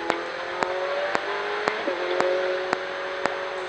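Ferrari 488 Challenge race car accelerating on the Varano circuit, heard as a steady droning engine tone from inside the car, with sharp regular ticks punctuating it about every half second.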